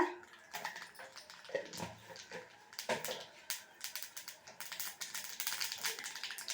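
Mustard seeds spluttering in hot oil in a pan while tempering for a sprouted-grain dosa: a busy run of sharp crackles and pops, close and moderately loud, with no talk.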